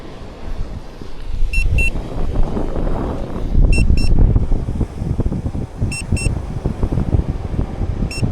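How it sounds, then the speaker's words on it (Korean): Pairs of short, high electronic beeps repeat about every two seconds over loud, gusty wind and whirring rotor noise from a nearby Aeroo Pro fishing drone returning to its landing pad. "드론이 2초에 한 번씩 삐삐거리면서 이 랜딩 패드를 찾아서 돌아온다고 하는데"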